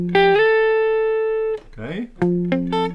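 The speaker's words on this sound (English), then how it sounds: "So the 2nd measure sounds like this." A clean electric guitar plays a short phrase: a long sustained note, a quick sliding figure, then a few sharply picked notes.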